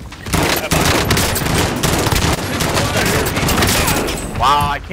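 Rapid bursts of automatic gunfire in a first-person shooter video game, loud and continuous, with dense overlapping shots across the whole stretch.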